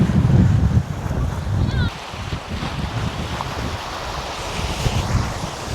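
Surf rolling onto the shore at Lime Cay beach, Jamaica, heard as a steady broadband wash with strong wind buffeting the microphone, loudest in the opening two seconds and then a continuous rushing hiss.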